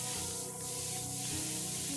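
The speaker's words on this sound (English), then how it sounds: "Good thing you thought of bug spray" Bug spray hisses in the Bluey video game, a soft, steady spraying noise layered under the game's ongoing music with no one speaking.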